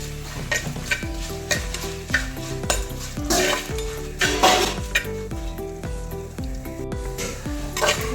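Coriander seeds, dried red chillies and Kashmiri chillies roast in a pan with coconut oil while a metal spoon stirs them, giving steady sizzling and frequent close clinks and scrapes against the pan in an uneven rhythm, with no speech.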